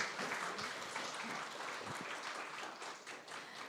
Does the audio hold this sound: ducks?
no